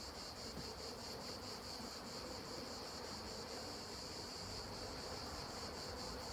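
Buckfast honeybees buzzing around an open hive during a beekeeper's inspection, a steady, dense, close swarm drone with no talking.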